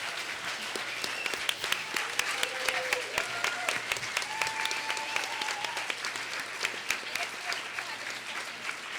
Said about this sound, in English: Let's give a warm round of applause for all of our panelists.